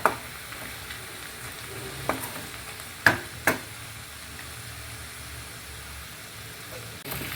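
Tomato frying in hot oil with spices for a Kerala-style poriyal, a steady close sizzle throughout with a few sharp clicks and taps from the pan.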